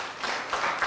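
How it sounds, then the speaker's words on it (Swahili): Audience applause, a dense steady patter of clapping hands lasting under a second, moderately loud with no voices over it. "Tumpigie makofi."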